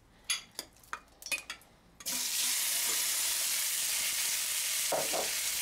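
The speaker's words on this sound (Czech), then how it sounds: "Na rozpálený olej dám naložený bůček." Marinated pork belly dropped into hot sunflower oil in a wok bursts into a loud, steady sizzle that runs unbroken to the end, after a few sharp clinks and knocks of handling at the start.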